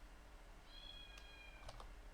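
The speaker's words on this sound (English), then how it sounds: "The cat's going crazy in the kitchen, guys." A cat worked up in a kitchen gives a couple of faint, distant meows in the middle of an otherwise quiet stretch with a low background hum.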